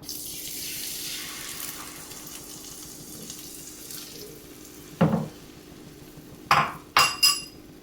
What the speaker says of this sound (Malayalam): ഓയിലും ബട്ടറൊക്കെ ചൂടായിട്ടുണ്ട്. നമുക്ക് ഈ അടിച്ചു വെച്ചിരിക്കുന്ന മുട്ടയുടെ ഹാഫ് ഒഴിച്ചു കൊടുക്കാം.